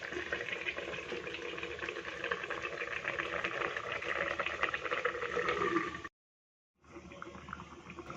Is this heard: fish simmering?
yes